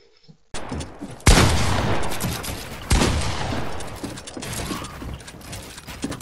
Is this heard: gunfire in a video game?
yes